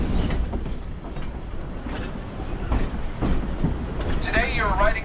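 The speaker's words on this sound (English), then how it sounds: "Today you're riding on a narrow-gauge railroad." Narrow-gauge Yosemite Mountain Sugar Pine Railroad train, pulled by a wood-burning locomotive, rumbling steadily along 36-inch rails, with rolling wheel noise and a brief squeal near the end, under continuous talk.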